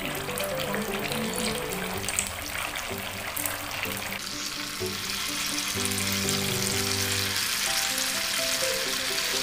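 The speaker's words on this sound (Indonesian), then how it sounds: "langsung saja kita goreng" Stuffed tofu balls filled with meatball mixture fry in hot oil, a loud, continuous close sizzle with occasional stirring, and background music plays throughout.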